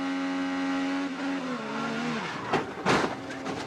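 Loud onboard engine roar of an Indy 500 race car at the 2017 race, a steady high harmonic whine that drops in pitch as it slows, followed by bursts of broadband rushing noise near the end.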